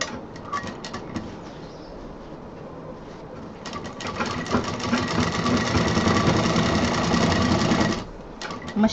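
A sewing machine runs in a steady stitching burst, sewing piping onto the second side of a fabric sewing machine cover. Brief stop-start runs come first, then a long, loud continuous run before it stops near the end.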